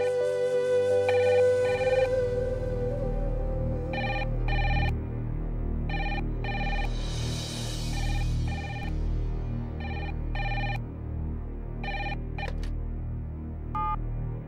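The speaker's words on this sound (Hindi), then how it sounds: "लगता है शास्त्री जी का ही फोन है।" A telephone rings in repeated double bursts across the scene, loud and near over a steady low hum, with no talk during the ringing.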